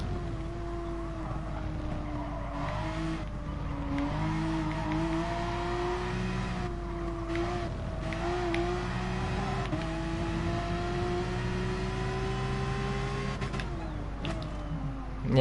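A GR3 race car in Gran Turismo Sport at Spa, its engine holding a steady high drone that climbs slowly in pitch and stays loud and continuous, with a brief dip and rise near the end.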